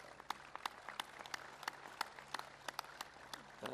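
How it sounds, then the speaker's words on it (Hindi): An audience at a yoga teacher training camp applauds, giving scattered, distinct claps at a steady pace that sound fairly distant and quiet. "जोरदार ताली हो जाए अंग्रेज के लिए।"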